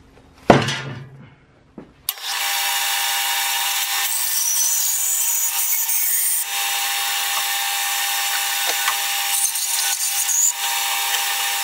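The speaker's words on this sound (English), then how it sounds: "let's stick it on the bandsaw and let's get cutting." A bandsaw cuts through a rotten 600-year-old antique wooden beam, starting abruptly after a brief knock and then holding a steady, loud, close whine with rasping grit for several seconds.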